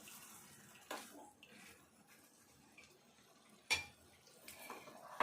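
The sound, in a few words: washing dried fish in water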